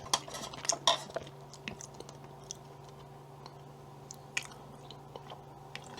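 Someone eats frozen beef rib soup, with soft, close chewing and biting and occasional light clicks of cutlery against a dish in a quiet room.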